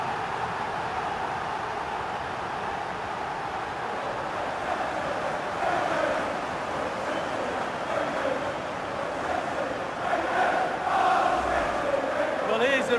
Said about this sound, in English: Crowd have gone crazy, and quite rightly so.